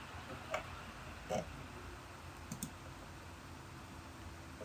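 Faint, isolated mouse clicks in a quiet room, a few sharp taps spaced irregularly over a few seconds with low background hiss.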